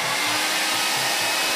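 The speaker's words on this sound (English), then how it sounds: "and then I will take this hairdryer," A hairdryer turned up to blow air for floating a ping pong ball roars steadily across the whole moment, a loud broadband whoosh with a faint pulsing low hum underneath.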